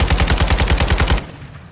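Kastov 762 rifle fired in Call of Duty: Modern Warfare II, a rapid, even burst of about a dozen loud, punchy shots that stops abruptly, leaving a brief fading tail.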